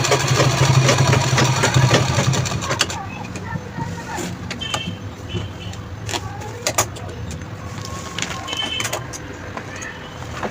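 A sewing machine stitching a designer purse with lock stitches; a close, buzzing run of stitching for about three seconds, then quieter clicks and handling sounds.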